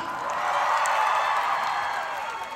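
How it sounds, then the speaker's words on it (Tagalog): A live show audience at Expo 2020 Dubai claps and shouts together in a loud, sustained wash of cheering and applause that fills the whole moment. "Try nga, palakpakan na may kasama sigawan."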